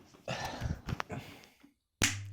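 A single sharp hand clap rings out alone after a pause, following a stretch of muffled talking on a casual movie-chat podcast.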